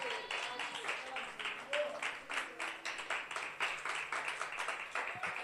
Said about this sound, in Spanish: Dele un aplauso al Señor de alabanza.